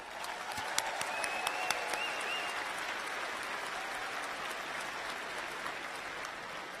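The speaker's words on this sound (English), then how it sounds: "I think that deserves an applause of gratitude." Audience at an undergraduate commencement ceremony applauding steadily in a large hall, a sustained wash of many hands clapping at moderate volume with no talk over it.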